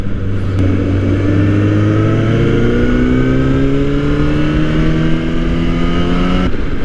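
A Kawasaki ZX-10R sportbike cruises through town, its engine a loud, steady drone with slowly rising pitch as it accelerates, heavy wind rush close to the mic throughout.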